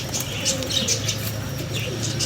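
Soft fluttering of giribaz pigeon wings flapping close by, with faint cooing and chirps in a steady, noisy background.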